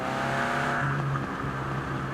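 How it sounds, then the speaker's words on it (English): A steady, loud engine drone from a Peugeot 205 Rallye in Forza Horizon 4, with a rough, crackling edge throughout as the exhaust pops and burbles at high revs. "Those exhaust pops are ridiculous."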